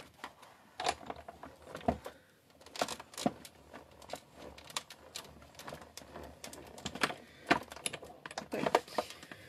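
Scissors snipping through paper for a scrapbook pop-up card, a quiet, close run of short crisp cuts and light rustles at an uneven pace, with no talking.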